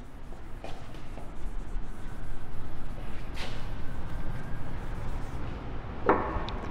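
A pen scratches out a math question in short, soft strokes across a quiet room, close and continuous with small pauses between words.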